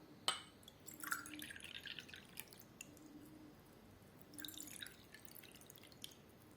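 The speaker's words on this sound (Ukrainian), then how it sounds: "Це я переливала водичку з однієї склянки в іншу." Water poured from one glass into another, heard as a faint trickle and a few drips that come and go, close by and quiet, with no talking.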